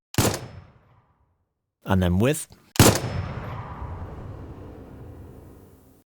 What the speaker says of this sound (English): Let's try the same thing on a conventional gunshot. First, let's hear it without dynamic grading,